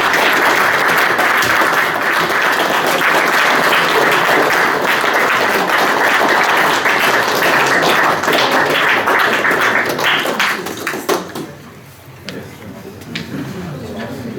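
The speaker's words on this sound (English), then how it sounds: "Can I ask you please to applaud our speaker?" An evening club audience gives a speaker a long, loud round of applause after a talk on tartan, dense steady clapping that thins out and fades near the end as a voice begins.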